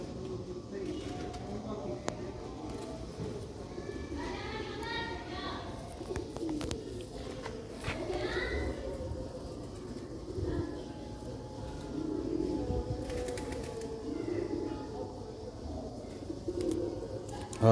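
Black Sialkot pigeons of an old breed coo in soft, repeated low burbling phrases close by, while someone talks over them throughout.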